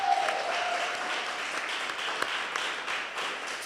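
A comedy-show audience applauds the night's contestants, a short, even wash of clapping at moderate volume that holds steady throughout without any talk over it.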